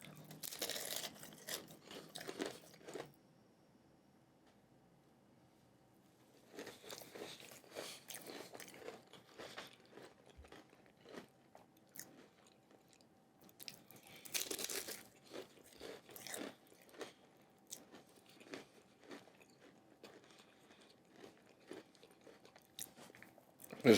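Close, crisp crunching as a large homemade cannoli shell is bitten and chewed, in bursts of crackling bites with quieter pauses between them and no talking.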